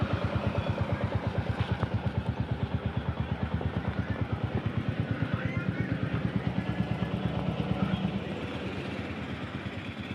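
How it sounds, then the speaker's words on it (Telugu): A motorcycle idles close by at a roadside tea break after a long highway ride, its engine thumping in a steady, even rhythm that softens slightly near the end. "అందుకే ఇంజన్ కూల్ అవ్వడానికి బైక్ ఆన్లోనే ఉంచాను."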